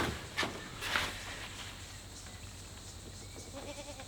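A goat on a homestead bleats faintly a couple of times amid rustling and handling noise, with soft, brief cries rather than loud calls.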